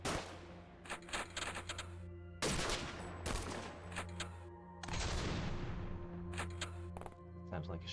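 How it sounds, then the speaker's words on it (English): Shotgun blasts in the video game XCOM ring out as several sharp, loud reports with short decaying tails, spaced irregularly over a low background hum, with a voice briefly talking. "Sounds like a shotgun."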